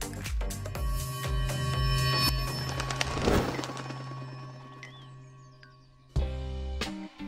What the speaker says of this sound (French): Il s'agit d'un réveil qui s'échappe et après lequel son propriétaire doit courir pour l'éteindre.